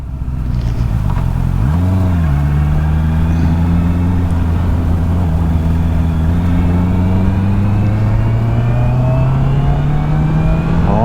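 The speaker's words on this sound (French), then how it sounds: "Ce bruit, j'adore les 4 cylindres." A Honda CBR650R four-cylinder motorcycle engine revs up sharply, then drones on at steady speed with a smooth, rising whine, loud and close.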